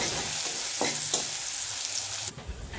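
Eggs fry in a pan with a steady, close sizzling hiss and a couple of light stirring taps, the crackle cutting off abruptly near the end and leaving a quieter murmur.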